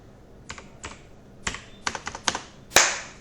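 Computer keyboard keys are tapped to enter a sales figure, about a dozen close, crisp clicks in short uneven bursts, ending with a heavier keystroke, with no talking.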